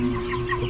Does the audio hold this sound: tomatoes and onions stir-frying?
no